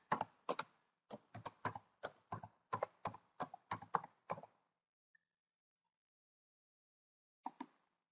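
Typing on a computer keyboard: a quick run of about fifteen crisp, closely spaced key clicks, then silence, then two final key taps near the end.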